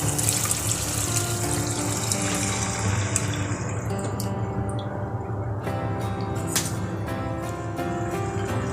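Tamarind juice pours in a continuous watery stream into a pot of Godavari-style fish curry, splashing and trickling up close, then tapering off near the end.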